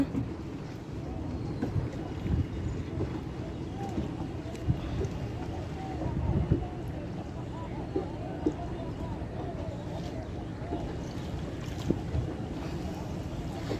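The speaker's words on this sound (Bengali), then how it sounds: "আমি এখন নৌকা বিহার করতে নিয়ে যাচ্ছি" Boat ride on the Ganges at Prinsep Ghat, with steady wind buffeting and a low rumble of water and waves around the hull, continuous and fairly loud, with faint voices underneath.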